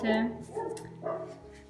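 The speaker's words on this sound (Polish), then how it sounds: "Pewnie znowu słyszycie mojego psa, no uwielbia szczekać jak ja nagrywam." A dog barks close by in a home, giving a couple of quick yaps that overlap with a person talking.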